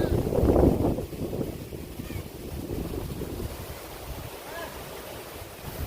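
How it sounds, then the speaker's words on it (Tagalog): Strong wind buffets the microphone in heavy gusts, loudest at the start, with a rushing, surf-like roar continuing underneath. "Sobrang lakas ng hangin."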